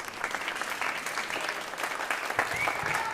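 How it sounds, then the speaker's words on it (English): Middle school students applauding their parents, friends and family at a spring concert, a full room of steady, fairly loud clapping throughout the short stretch with some crowd murmur mixed in. "Students, can you please give your parents and friends and family a big round of applause for all the support they give you?"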